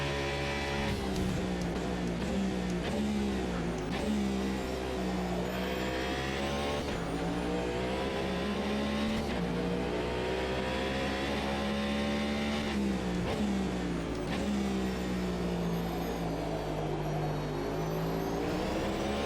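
A race car in Automobilista 2 at the IMSA 24 Hours of Daytona, its engine droning loud and steady, with a faint whir from the hybrid MGU-K system recharging under braking beneath the engine note.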